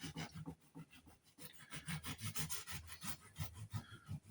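A knife sawing through roast chickpea biscotti, a close, steady run of rough rasping strokes with a crunchy, scraping texture and no talking.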